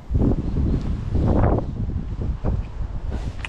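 Wind buffeting the microphone outdoors during lure fishing, a loud, close, rumbling gusty roar with uneven surges and no speech.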